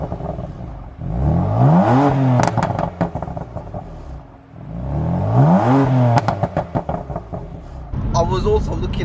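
A BMW M4 with a Stage 1 Bootmod3 tune revs hard twice, each rise and fall trailed by a rapid burst of exhaust pops and crackles, loud and close, with a brief engine note at the end.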